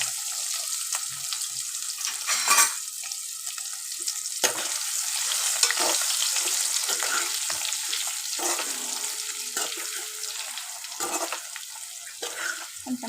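Stuffed bitter gourds go into hot oil in a pan and fry with a steady, loud, bubbling sizzle that persists throughout, with occasional brief louder crackles.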